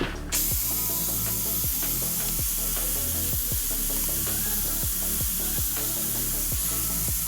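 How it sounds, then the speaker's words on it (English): A steady drill motor drone with a repeating mechanical clicking and thumping, about one beat per second, close and loud throughout, with no talking, while drilling a pocket hole in a board with a Kreg 720 PRO pocket-hole jig. "And now it's time to drill a board."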